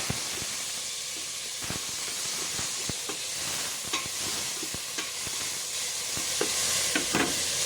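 Aromatics and tomatoes sauté in a hot pan, a steady sizzle and hiss broken by frequent sharp scraping and stirring clicks, close and continuous with no talk.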